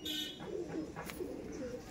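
Madras pigeons kept at a home loft coo in a few short, low, warbling phrases, fairly near, over faint background hiss with no one talking.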